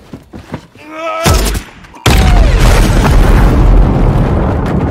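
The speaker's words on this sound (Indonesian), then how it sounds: "robot bom yang kembali aktif pun meledak" A bomb robot explodes in a heavy, booming burst, loud and close, followed by a sustained roaring rumble of debris and fire that stays strong to the end.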